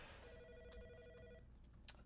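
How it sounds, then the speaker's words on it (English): A telephone rings in the horror game Autopsy Simulator, giving a steady electronic trill for about a second and a half before it stops. The ring sounds fairly quiet against a low background hum, and a brief click follows. "Pick up the phone."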